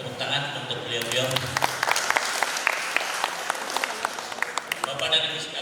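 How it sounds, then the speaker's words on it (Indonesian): An audience at a district council members' constituency meeting in Bandung applauds steadily, a fairly quiet, sustained patter of many hands clapping with a few sharper claps standing out and a voice heard faintly at the start and end. "Tepuk tangan untuk beliau-beliau."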